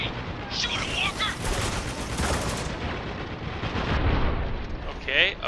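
Heavy machine gun fire from the video game Spec Ops: The Line, a dense, loud, continuous barrage of gunfire and blasts running the whole stretch, with a player's voice talking over the shooting.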